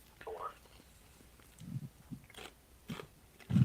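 Close, crunchy chewing in irregular bites, with soft mouth noises between them and a louder crunch at the end.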